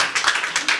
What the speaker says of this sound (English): Please, one more louder round of applause.